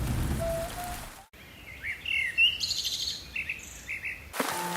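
Rain falls steadily with a wet, hissing wash, while birds chirp and tweet intermittently above it; the sound breaks off briefly and then resumes.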